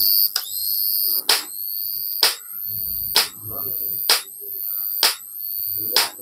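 Solar jhatka fence machine with its cover opened, its buzzer sounding a loud, regular series of sharp electronic beeps, about one each second, with faint background noise between them.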